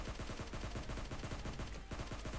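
Gunfire in the mobile battle royale game PUBG Mobile Lite: a rapid, steady burst of automatic shots in quick rhythm, dense and continuous, with a brief gap near the end before firing resumes.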